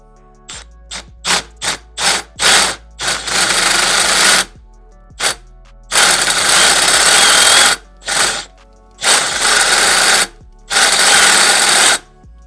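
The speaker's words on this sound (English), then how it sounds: "let's get drilling." A power drill bores into the exhaust of a 2010 eighth-generation Honda Civic near the catalytic converter, loud and close, with a series of short trigger bursts followed by longer sustained whining runs separated by silence.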